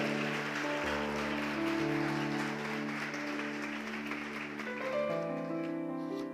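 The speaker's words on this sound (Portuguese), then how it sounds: "Você pode aplaudir o Senhor?" A church congregation applauds during a Portuguese-language sermon, a moderate wash of clapping that carries over sustained keyboard chords which shift a couple of times.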